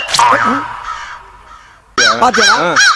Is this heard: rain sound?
no